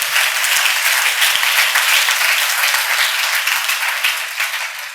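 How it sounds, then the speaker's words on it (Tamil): A church congregation claps their hands together in sustained, loud applause that fills the room steadily and tapers only slightly toward the end, with no talking over it. "கைதட்டுங்க பார்க்கலாம். நல்லா கையை தட்டி, அதை குறை வைக்க கூடாது."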